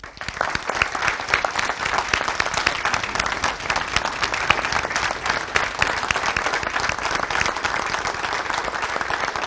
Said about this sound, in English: give you another round of applause for all that you do and show our appreciation